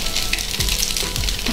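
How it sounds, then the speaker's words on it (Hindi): Semolina snacks shallow-fry in oil on both sides. A close, continuous crackling sizzle runs under a few faint low bumps from the pan. No one speaks. "इनको दोनों तरफ से हम थोड़ा सा क्रिस्पी फ्राई कर लेंगे।"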